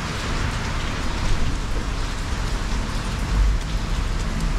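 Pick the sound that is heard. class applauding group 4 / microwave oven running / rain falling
rain falling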